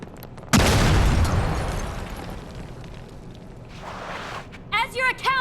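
A loud grenade blast booms out in the video game Gangster Vegas, a sharp burst followed by a long rumbling decay, with a second softer explosion and brief shouted voices at the end.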